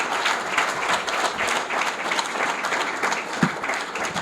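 Steady, sustained audience applause fills a hall at an anniversary event for an organisation, a dense wash of many hands clapping at even loudness with faint voices mixed in.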